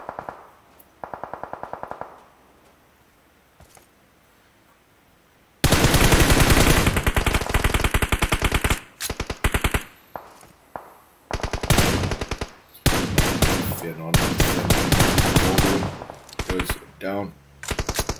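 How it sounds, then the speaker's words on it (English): Rapid automatic gunfire and single shots from a battle royale video game match, in long dense bursts with short pauses, loud and close, opening with a quieter burst before a stretch of near silence. "Fire towards Wraith and the Prophecy team"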